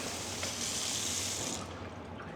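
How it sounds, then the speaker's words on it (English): Kitchen faucet spray wand running water into a double-sided sink, a steady hissing stream up close that cuts off abruptly near the end, with no voices. "double-sided sink, spray wand in the faucet"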